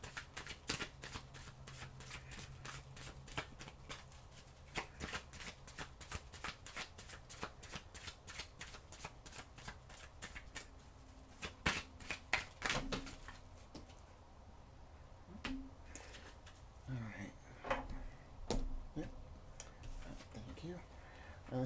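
Tarot cards being shuffled by hand in a quiet room, a long run of quick, crisp riffling snaps and soft patters, fairly close and moderately quiet, with brief pauses and a few isolated taps.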